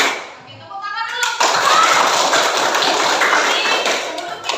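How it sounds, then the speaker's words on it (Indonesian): A class of children bursts into loud, continuous group hand clapping after a brief spoken cue, the dense clapping sustained for about three seconds before tapering off. "Oke, tepuk tangan dulu."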